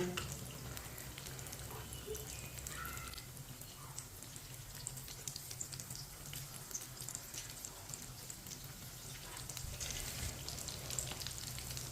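Potato tikki patties sizzle steadily in a pan after being flipped, making a constant close frying hiss with occasional soft crackles and no talking.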